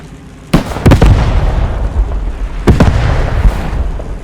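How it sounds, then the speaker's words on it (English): Two heavy artillery explosions from the World War II shooter Post Scriptum, each a loud sharp boom followed by rumbling debris and echo, the blasts about two seconds apart. "Artillery is entering the church"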